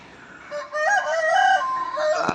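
A rooster crows once, close and loud, a drawn-out call that holds for over a second before breaking off, with no voices.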